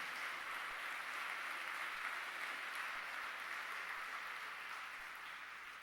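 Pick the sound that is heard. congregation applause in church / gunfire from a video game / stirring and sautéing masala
congregation applause in church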